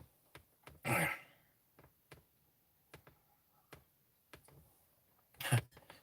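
Two short, sharp coughs a few seconds apart, close and fairly loud, with soft clicks and taps scattered through an otherwise quiet background.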